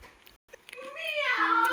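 A large domestic cat lets out one drawn-out meow that rises and swells toward the end, close by and clear, after a few soft scattered household noises.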